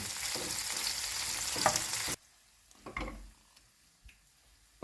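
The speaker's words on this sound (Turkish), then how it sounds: "Köftelerimiz kızarmaya başladı. 1-2 dakika çevirin." Oil sizzling loudly in a pan as meatballs fry for a couple of seconds, then it drops away to faint crackles and a few soft clinks.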